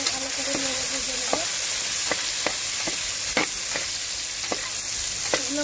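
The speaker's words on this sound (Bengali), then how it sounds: "সেগুলো আমি সম্পূর্ণ ভালো করে নেড়ে ভেজে নেব" Chopped ginger and garlic stir-fry in a hot pan, with a steady broadband sizzle punctuated by regular sharp scrapes and taps of a spatula every half second or so, close and fairly loud, no talking.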